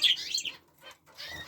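Red mosaic canaries give short bright chirps with a brief flutter of wings, close by, in two quick bursts split by a pause.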